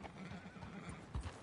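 A horse in the video game Red Dead Redemption 2 whinnies while its hooves clip-clop, quiet and mid-distance, under a low game ambience.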